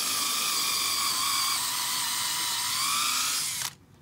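Electric drill boring a hole, a loud steady high-pitched whine running continuously for several seconds before cutting off abruptly near the end.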